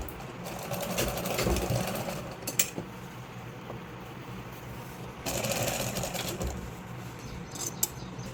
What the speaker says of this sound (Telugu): ఫాల్ కొద్దిగా ఫోల్డింగ్ చేసి అయితే లోపలికి అయితే ఇలా మడిచి అయితే కుట్టుకోవాలి.